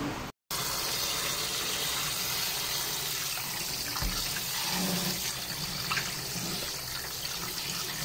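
Pork hock being rinsed under a running tap, a continuous gush of water splashing into a sink for several seconds, with a short dropout near the start and a faint knock midway, no voices.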